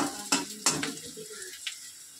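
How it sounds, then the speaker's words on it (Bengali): Onions frying in a little oil for a dal tempering, with short sizzling bursts, a utensil stirring and scraping against the pan, and a few sharp clinks over a quiet kitchen background. "আমার পেঁয়াজ ভাজা হয়ে গেছে, আমি এবার এটা ডালে দিয়ে দেবো"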